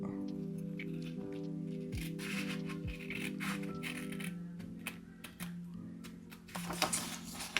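Scissors cutting paper for a mini expandable junk journal file folder, a steady close-up run of dry snips and crisp rustling over a low constant hum.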